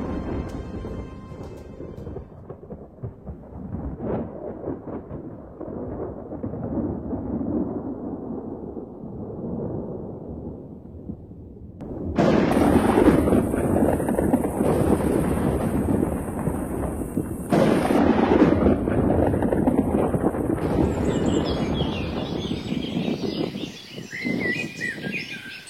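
Rumbling thunder of an approaching summer storm over countryside, a long low roll building and fading in the first half, followed by louder, brighter bursts of noise with scattered bird calls.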